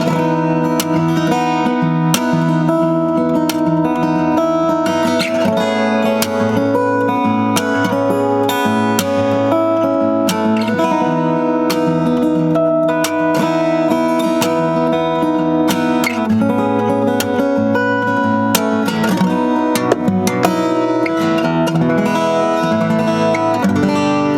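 A Most M-01 solid-top dreadnought acoustic guitar is strummed continuously through chords at a lively, even pace, full and ringing, with no voices.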